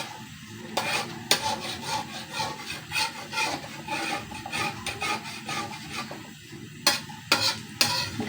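Scrubbing and washing around the edge of a cooking pot in a home kitchen. Steady rubbing and scraping strokes with a few sharper knocks, no talking.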